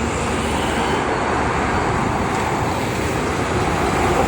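Steady roar of container trucks and cars on the Jakarta-Cikampek toll road near Karawang, a continuous dense traffic rumble with no distinct single pass-by, heard from close to the roadway.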